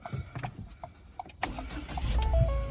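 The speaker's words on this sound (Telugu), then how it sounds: "స్టార్ట్ అయింది బండి సింగిల్ సెల్ఫ్ స్టార్ట్ అయింది" A 2018 Ford EcoSport Signature with sunroof cranks briefly and starts on a single try, its engine catching at about 1.4 seconds and settling into a steady close idle after some faint clicks and dashboard chimes.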